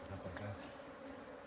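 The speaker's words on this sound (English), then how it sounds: "So the real reason why these bees keep stinging me is not because they're aggressive" Bees buzzing around a beehive, a faint, steady insect drone with a few brief louder passes close by.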